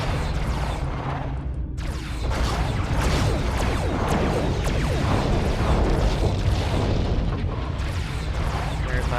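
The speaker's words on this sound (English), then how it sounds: "there he is, decloaking, firing a medium plasma torpedo at me." Booming energy weapon fire and explosions in the space combat game Klingon Academy as a medium plasma torpedo is launched by a decloaking ship, dense and continuous with heavy low rumble and brief gaps.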